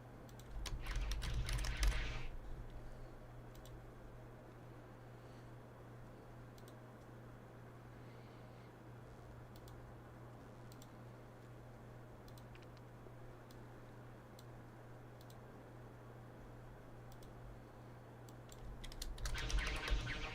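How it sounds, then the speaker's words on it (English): Computer keyboard typing sounds come from a game mod: short, faint clusters of key clicks at the start and again at the end, with a quiet steady hum between them and no voices. "Oh, keyboard sounds."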